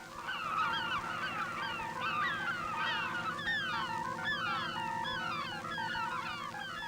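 Flock of seagulls and terns calling near an airfield, a dense chorus of overlapping squawks and honking cries layered over a steady low rumble, continuous and fairly close throughout.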